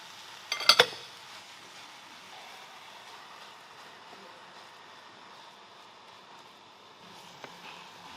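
Homemade pork and beef mince lands in a hot pan with a short clatter, then settles into a steady, soft, close sizzle that hisses on alone for several seconds.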